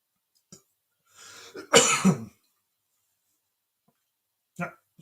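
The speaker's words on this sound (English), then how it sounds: "you're supposed to cough in your elbow" A single close cough with a rough throat-clearing quality rings out in a quiet room, followed by a short breath-like sound.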